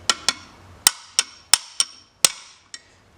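A hammer strikes a drift to seat a snap ring in a turbocharger compressor housing, eight sharp metallic taps at an uneven pace, close and alone.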